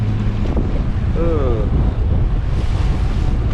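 A sailboat crossing from Samsø to Grenaa in Denmark bashes slowly into waves in 20-25 knot beam-reach winds, with continuous loud wind roar and water rush on the microphone, hull thumps, and brief faint voices.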